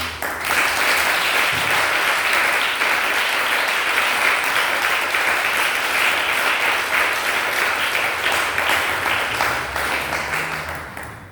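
A church congregation applauding during a worship service, sustained dense clapping that fills the room steadily at full level for the whole stretch and tapers slightly at the very end.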